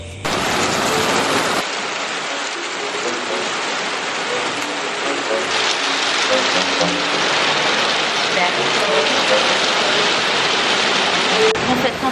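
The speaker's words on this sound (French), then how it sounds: "Il pleut à torrent, du coup il y a grave du vent" Steady, loud torrential rain with strong wind roaring continuously on a surface in Bali, a dense hiss throughout with a brief louder patch near the start.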